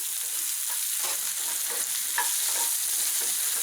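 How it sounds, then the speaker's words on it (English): Mushrooms browning in a pan for a pot roast send up a steady, even hiss of frying, moderately loud and continuous, with a faint stir or two and no talking. "So I browned the meat, and then I brown the mushrooms"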